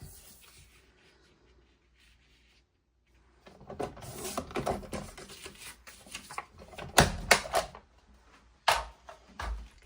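Paper being cut into a 3¼ inch square for a scrapbook layout, quiet at first, then a run of close, uneven crisp cutting and handling rustles with a few sharper snaps.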